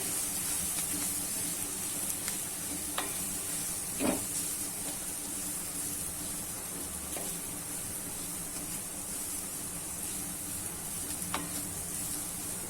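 Potatoes fry with browned onions in a pan, giving a soft, constant sizzling hiss with a few light scraping knocks from stirring, fairly quiet and without speech.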